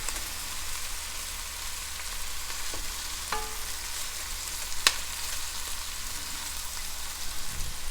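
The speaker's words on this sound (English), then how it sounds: "I'll just kind of move them around, give them a chance to cook a little bit." Vegetarian albondigas frying in a pan, a steady low sizzle with a few faint scrapes and taps as they are moved around, fairly quiet and without talk.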